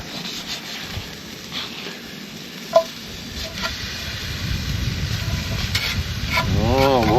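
Bacon sizzles in a pan over a campfire by a creek bank, a soft crackle that grows louder and fuller toward the end, with one sharp pop partway through.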